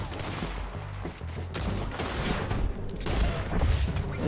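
Gunfire from the Red Dead Redemption 2 video game rattles in dense, continuous volleys, loud and busy across the whole stretch with no pauses and no speech.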